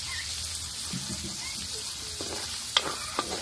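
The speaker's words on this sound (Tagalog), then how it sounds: "Gisayin na lang po natin ito lahat." Tomato and ginger hit a hot pan, giving a soft steady sizzle with stirring scrapes and a couple of sharp clinks, fairly quiet throughout.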